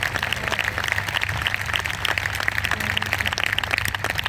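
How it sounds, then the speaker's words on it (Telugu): A congregation at a church tent festival gathering claps steadily, a dense, sustained round of applause filling the hall at an even level without a break. "అస్సలు భయం లేకుండా ధైర్యంగా చప్పట్లు కొట్టండి"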